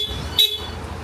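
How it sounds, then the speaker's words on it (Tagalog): Bosch Europa horn fitted to a Yamaha NMAX V3 scooter gives one short, bright honk, about a tenth of a second long, close by, over low background rumble. "nagagamit yung stock horn, nagagamit yung Bosch Europa"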